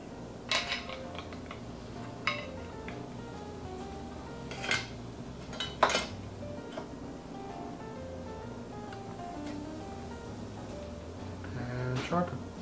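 A bowl gouge ground to a 50-degree bevel is sharpened on a sharpening system: a steady low motor hum with scattered sharp metallic clinks and scrapes as the steel is set and moved against it.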